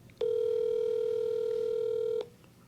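An outgoing call rings unanswered on the line: a single steady electronic ringback tone lasting about two seconds, clear and alone over a faint background hum.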